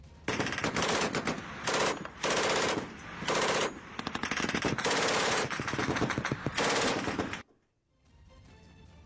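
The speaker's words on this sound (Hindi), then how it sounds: "काबुल में तालिबानी लड़ाकों ने जोश में फायरिंग भी की थी" Taliban fighters firing guns in celebration in Kabul: loud, dense bursts of automatic gunfire overlapping in repeated volleys, then an abrupt drop to quieter background.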